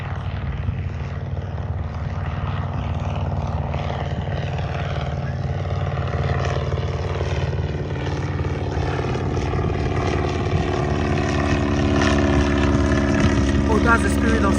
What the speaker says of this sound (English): Oh, that's the Spirit of St. Louis aircraft.